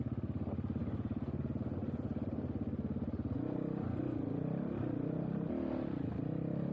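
A 2022 GPX FSE 300R motorcycle with a Zongshen 300 single-cylinder engine being ridden on a single track, its engine thrumming in a fast, even pulse that rises in pitch partway through as it revs and shifts.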